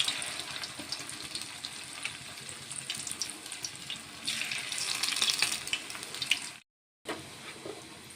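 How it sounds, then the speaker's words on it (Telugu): Cauliflower pieces frying in hot oil in a pan for pakodi, a steady close hiss and bubbling sizzle that swells partway through, briefly cuts out, then resumes, with no voices. "పాన్లో ఆయిల్ వేసుకున్నానండి. ఆయిల్ హీట్ ఎక్కింది. కాలీఫ్లవర్ ఒక్కొక్కటిగా వేసుకుందాం."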